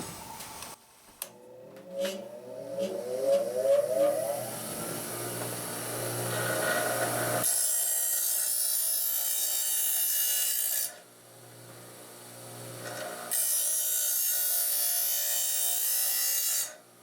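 A grinder sharpens a lawnmower blade in a workshop, giving a steady close-up rasping whine broken by two brief pauses between even passes, with no talking.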